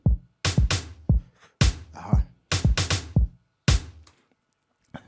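An Afro house drum loop built in FL Studio, with kick, snare and tom hits in a syncopated two-bar pattern. The punchy hits have booming low tails and are separated by short gaps, with no voices.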